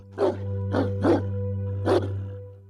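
A dog barks four times in separate bursts over a steady low drone, loud and fairly close, with short pauses between the barks.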